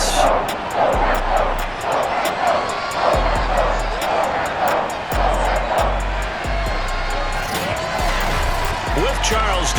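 A sold-out stadium crowd in Madden NFL 22 roars as the New England Patriots face the New York Jets. The broad, steady crowd noise holds throughout, with a commentator talking over it.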